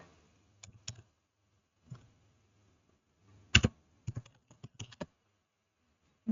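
Someone types a search into a website on a computer keyboard, giving sparse, close, quiet key clicks in short bursts with pauses between them and a quick flurry of taps near the end.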